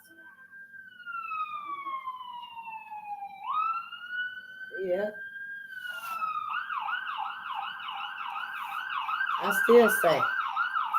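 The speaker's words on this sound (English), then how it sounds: "people don't even want to stop for that ambulance." An ambulance siren wails in long sweeping tones, then switches to a fast warbling yelp as it passes nearby, growing louder, with brief voices talking over it.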